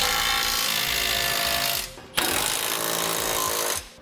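Impact wrench tightening flange nuts with an 11/16 socket on a Curt trailer hitch for a 2012 Chevrolet Sonic, two loud rattling bursts of about two seconds each, separated by a brief pause.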